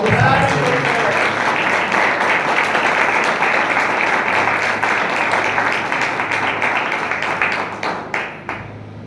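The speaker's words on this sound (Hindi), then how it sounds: "जोर से तालियां बजाएगा।" A church congregation at a Lenten service claps loudly and steadily in a dense, sustained burst that tapers into a few separate claps as it dies away, with some voices underneath.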